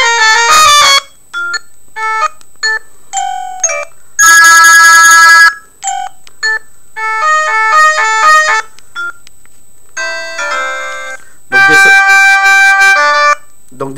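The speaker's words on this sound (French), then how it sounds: "je vais vous faire écouter dans les sons le son des appels entrants" A Mobiho Clap Easy big-button mobile phone plays its loud, shrill incoming-call ringtone, repeated bursts of bright electronic melody separated by short gaps.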